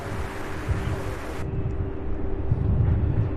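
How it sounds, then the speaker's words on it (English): A passenger airplane taxis at Louisville International Airport, a distant steady engine drone with a high whine that cuts out partway, under wind rumble at the microphone. "The one that's taxiing is the one going to Minneapolis."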